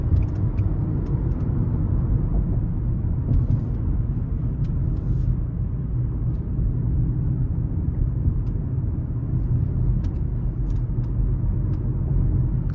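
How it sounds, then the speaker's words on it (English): A 2024 Nissan Altima S accelerating in sport mode up an interstate on-ramp, heard from inside the cabin as a steady, loud low road and engine rumble that holds for the whole stretch, with faint ticks above and no talking. "I'm gonna put it into sport mode and see how it does getting on the interstate."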